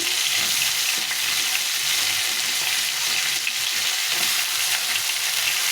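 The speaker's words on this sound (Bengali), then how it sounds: "প্রথমে দিলাম পটল তারপরে দিলাম বেগুন" Pointed gourd and eggplant fry in a hot pan with a steady, close hiss of sizzling oil and a few soft stirring sounds, with no talking.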